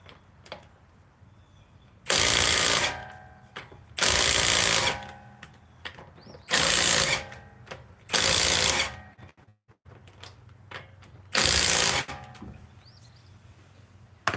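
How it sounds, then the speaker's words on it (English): A power tool removes lug nuts from a 2003 Honda Pilot wheel in five loud, close bursts of about a second each, separated by short quiet gaps. "So I'm going to set this down and take the lug nuts off first."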